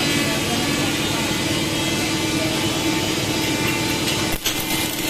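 A DC inverter MMA arc welding machine (400 MMA type) is turned down to reduced current, giving a loud, steady, close crackling hiss with no pauses and only a brief dip near the end.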